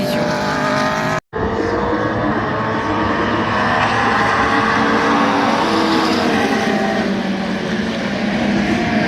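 Race cars, a Norma and a Proto JAD among them, roar around the Nogaro circuit in France. A loud, sustained engine drone rises steadily in pitch, broken by a brief cut-out near the start.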